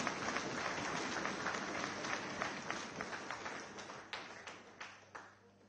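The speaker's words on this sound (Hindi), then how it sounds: "एक बार जोरदार तालियां हमारी ऋचा पांडे।" Audience at a Delhi public event applauding, dense clapping from a large crowd that gradually thins into scattered individual claps before fading.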